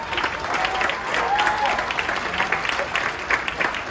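An audience aboard a cruise ship applauds the crew team members, a broad, steady wash of clapping from a sizable crowd that holds for several seconds with a faint voice drifting beneath.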